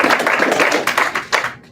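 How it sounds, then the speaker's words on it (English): A brief round of applause at an athletic leadership meeting: a small group clapping in quick, uneven bursts nearby, tapering off after under two seconds. "Round of applause."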